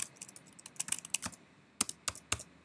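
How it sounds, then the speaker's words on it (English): Keys clatter on a computer keyboard while text is entered, a quiet run of scattered soft clicks followed by a few sharper, louder strokes, close by and with no voices. "So now I'm going to type a bit more text in."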